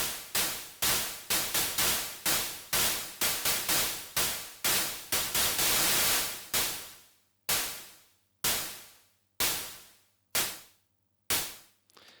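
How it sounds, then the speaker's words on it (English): Bursts of white noise from a generator in a music mixing session, cut by a gate into sharp hissing pulses that fade out, rapid and dense at first, then sparser and evenly spaced, loud with no voices. "if I now turn on the white noise"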